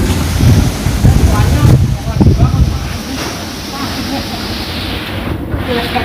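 Strong wind gusts buffet the microphone outdoors just before rain, a loud roaring rush that eases after a few seconds into a steadier blow, and a voice can be heard over it.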